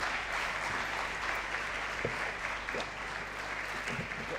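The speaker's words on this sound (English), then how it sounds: "A round of applause for the Vice President." Audience applause for the Vice President at a Nigerian film festival lecture, steady sustained clapping from a large crowd filling the hall at moderate loudness throughout.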